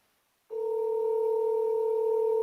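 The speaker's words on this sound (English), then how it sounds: "why is the phone ringing? Can you hear that?" A steady telephone ringback tone on an outgoing call starts abruptly after a half-second of silence and holds continuously at an even level to the end, with no talk.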